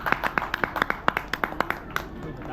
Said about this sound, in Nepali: ताली बजाइदिनु अध्यक्षजीलाई